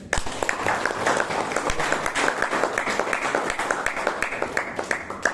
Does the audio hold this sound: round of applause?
yes